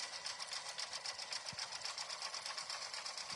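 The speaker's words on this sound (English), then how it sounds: "machines will naturally kind of slow down on satins like this in some spots" Sewing machine running a satin stitch at speed, a fast, even rhythmic whirring chatter of the needle, quiet and close, with the pace easing slightly in spots and no voices.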